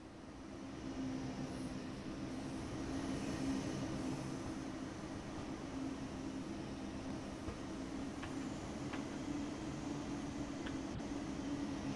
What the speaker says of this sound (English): Let's take a look now while this train is in motion.